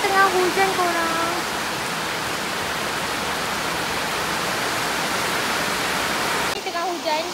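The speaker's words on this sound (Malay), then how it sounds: "Ni tengah hujan" Heavy rain pouring steadily at a zoo in Melaka, a dense even hiss filling the scene, with brief talk at the start and end.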